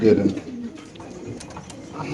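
Caged racer pigeons at a bird market coo in soft, low, throaty bursts at close range, with people talking over them.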